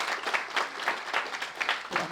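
Audience applause at a business seminar, a steady wash of many hands clapping with slight swells, moderately close and without talk.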